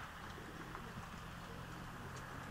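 Soft pigeon coos sound faintly against a steady background hiss, distant and low.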